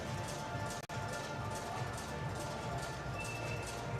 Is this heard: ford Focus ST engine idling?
no